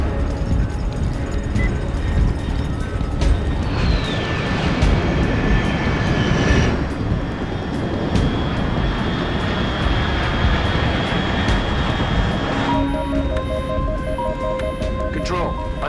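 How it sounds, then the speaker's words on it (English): Fast aircraft engine roaring steadily in the Metal Gear Solid 3 Snake Eater video game, a broad continuous drone with a rising whine, under radio-style voices and game sound effects. "Unidentified aircraft detected."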